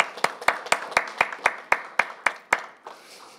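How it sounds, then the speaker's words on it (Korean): A church congregation claps in a steady rhythm at a healing service, about a dozen sharp, evenly spaced claps that end in a brief faint wash of sound. "하나님께 감사와 영광의 박수를 올려드리겠습니다"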